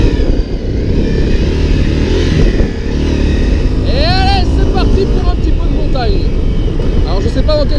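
A Honda CRF 250 L motorcycle riding on a road: a steady engine drone with wind rumble throughout, loud and close, and someone talking over it.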